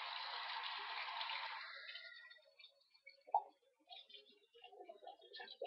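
Tap water rushes over a foundation brush as a steady, fairly close hiss for about two seconds, then cuts off, leaving faint clicks and small handling sounds.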